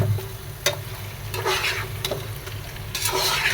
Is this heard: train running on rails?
no